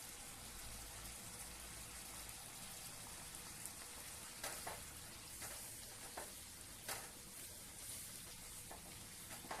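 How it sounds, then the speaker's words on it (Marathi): Quiet, steady sizzle of birdya, sprouted field beans, frying in a pan with tomato and salt, a soft crackling hiss broken by a few sharper pops and spatters, no talking. "तुम्ही बघू शकताय आपण बिरड्या फ्राय करतोय"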